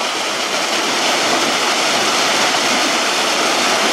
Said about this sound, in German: meinen ersten kleinen Wasserfall